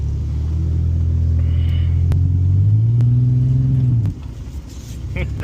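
Ranger utility vehicle engine revving hard on a rainy day while its tire spins, a loud sustained rising drone that cuts off abruptly, then a quieter idle rumble.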